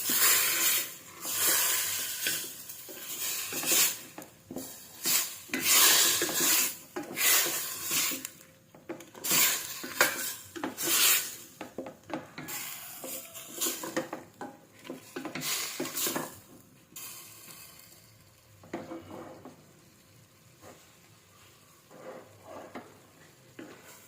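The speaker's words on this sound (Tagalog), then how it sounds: "Tapos haluin." Chicken binakol being stirred in a pot with black pepper and sugar, a spoon scraping and clattering in bursts against a gentle sizzle, close and fairly loud with no talking.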